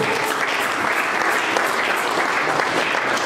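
A church congregation claps steadily in a dense, sustained burst of applause that fills the hall at an even, loud level throughout.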